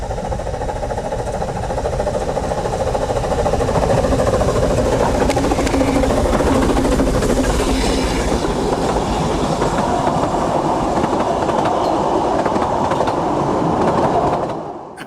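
Narrow gauge steam locomotive Earl of Merioneth approaching on a Welsh railway, a steady rumbling and clattering train sound holding throughout at moderate loudness, without speech, then cutting off abruptly at the end.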